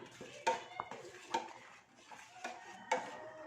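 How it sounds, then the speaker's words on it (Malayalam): Custard mixture being stirred into milk in a pot, soft scraping and a few sharp clinks of a spoon against the metal at irregular intervals, quiet and close with no talking. "ഒന്ന് നന്നായിട്ട് ഇങ്ങനെ മിക്സ് ചെയ്തുകൊണ്ടിരിക്കണം."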